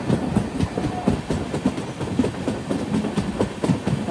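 An Ernakulam to Velankanni weekly express sleeper train runs steadily with continuous rumbling and rhythmic clickety-clack of wheels over rail joints, heard close from on board and without voices.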